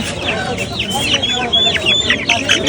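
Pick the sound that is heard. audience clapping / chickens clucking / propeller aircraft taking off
chickens clucking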